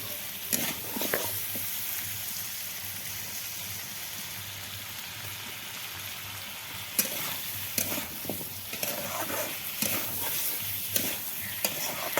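Potatoes, tomatoes and onion cook in a pan for a fish curry, giving a steady, rain-like sizzle with a low hum underneath and scattered stirring knocks and scrapes.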